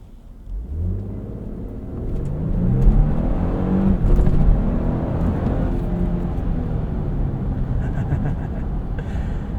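A 2024 Lexus GX 550 Luxury Plus accelerating on the road, a low engine rumble and road noise swelling steadily from inside the cabin, with no talking.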